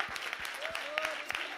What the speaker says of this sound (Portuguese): podemos dar uma grande salva de palmas ao nosso Rei